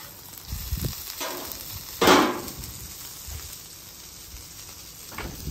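Shake and bake pork chops frying in a pool of oil on a griddle, a steady sizzle with a brief louder burst of spatter as a chop is flipped, close up.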